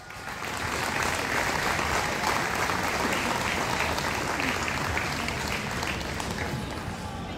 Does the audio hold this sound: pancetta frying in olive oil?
no